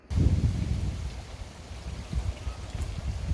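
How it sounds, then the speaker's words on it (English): Outdoor thunderstorm on the way, with a steady low rumble of wind and rain and gusty surges swelling and fading throughout, moderately loud with no one speaking. "The storm is literally coming."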